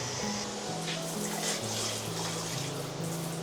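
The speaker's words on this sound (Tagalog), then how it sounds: "Bidet." Bidet water sprays steadily in a tiled comfort room at Camp Payapa campsite in Siniloan, Laguna, a continuous close hiss with a low droning hum running under it.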